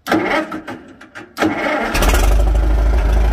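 A tractor engine cranks with a starter whir for over a second, then catches and settles into a loud, steady rumbling idle nearby.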